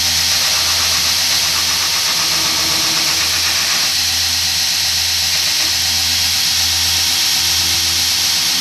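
A belt grinder runs steadily and loudly up close while a round bar knife edge is ground, a continuous whirring hiss with a sustained hum and a slight change in tone partway through.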